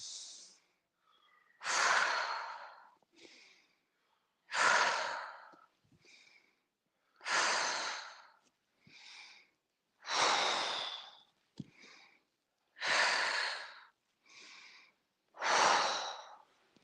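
Slow, deep breathing during tai chi practice, alternating long inhales and exhales in a calm, even rhythm, quiet and close with pauses between breaths and no talk.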